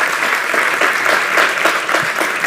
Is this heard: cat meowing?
no